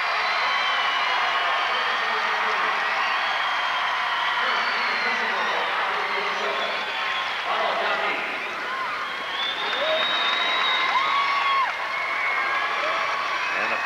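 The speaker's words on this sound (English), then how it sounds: "And now Nauvoo Colusa gets the cheer." A crowd cheers and applauds at the 1998 IHSA boys Class A basketball championship game, a sustained wash of clapping with whoops and shouts rising over a gym full of people.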